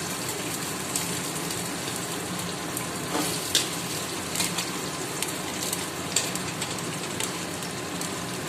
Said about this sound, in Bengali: এইবার দিয়ে দেবো আলু।